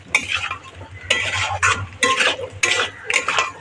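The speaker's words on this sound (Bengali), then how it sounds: "এবার এর মধ্যে আমি দিয়ে দেবো ভেজে রাখা ডিম ও আলুটা খুব ভালো করে এবার সবগুলো একসঙ্গে কষিয়ে নেব" A fried egg and potato pieces are being sautéed into a tomato masala, with a spoon scraping and stirring the pan in several bursts over a steady low sizzle and a low hum underneath.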